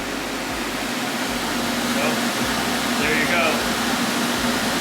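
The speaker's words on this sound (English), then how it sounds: "I'm gonna turn this fan on" A fan blows air in a steady, broad whoosh that holds at an even level throughout, with faint murmuring underneath.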